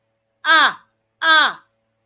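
Two loud, harsh, close caws from a blackbird, evenly spaced with a silent pause between them.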